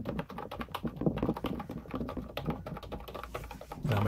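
A Sades V2020 keyboard is typed on at a fast, steady pace, its keys clacking in dense close-up bursts with no voice over them.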